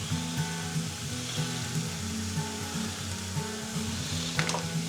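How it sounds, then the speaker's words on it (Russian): Tomato and tomato puree fry in a pan for borscht, a steady close sizzle with faint stirring scrapes and a brief clatter near the end. "Хорошо все перемешаем и пускай продолжает у нас жариться все это"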